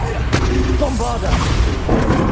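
Bombarda explosion spell cast in the Hogwarts Legacy video game, a loud booming blast amid dense battle noise, with spell voices and combat effects layered over it.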